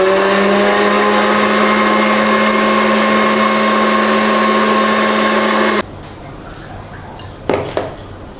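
A close electric hand mixer beats banana walnut cake batter with a steady loud whirring hum for several seconds, then cuts off, leaving faint room noise and a couple of light knocks.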